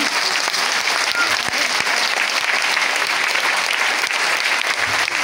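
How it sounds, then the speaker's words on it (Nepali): Congregation clapping together at a church sermon, a dense, steady wall of applause filling the room without pause. "यस्तो परमेश्वर पितालाई एकचोटि ताली बजाउनु होला"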